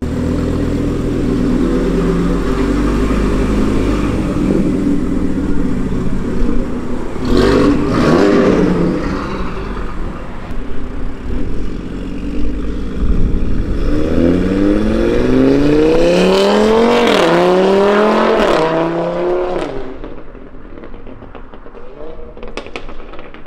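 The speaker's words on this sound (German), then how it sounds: "Direkt eigentlich Straight Pipe drunter hauen und dann hört er sich an wie der Graue da. Vernünftig, wie ein Fünfzylinder sich anhören sollte." Audi five-cylinder engine with a straight pipe exhaust, loud and close, idling with a deep rumble, then revved hard in several rising and falling sweeps before settling back down.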